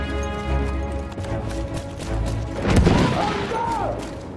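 Battlefield 1 gunfire and explosions crack and boom in quick bursts, with a heavy blast near the middle over a constant battle din, while a voice talks briefly.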